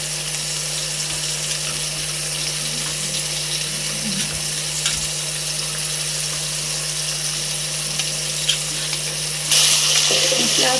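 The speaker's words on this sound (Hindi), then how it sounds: "तो जब तक प्याज वो थोड़ी देर के लिए फ्राई करती हूँ" Onions fry in a pan for a sarson ka saag meal, a steady close sizzle with a constant low hum beneath it, growing brighter and louder near the end.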